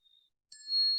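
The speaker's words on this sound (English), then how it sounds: "This is a brass souvenir bell for Vancouver, and it's got these really cute little jewels on it." A brass Vancouver souvenir bell decorated with small jewels gives one clear, high ding that rings on and sustains, after a faint, brief tap.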